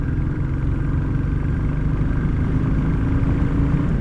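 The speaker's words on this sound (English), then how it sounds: "now just listen to the exhaust sound of this motorcycle" A 2021 Royal Enfield Classic 350 engine runs steadily with a deep, throbbing exhaust note, loud and close, holding an even idle-like rumble throughout, recorded from inside a full-face helmet.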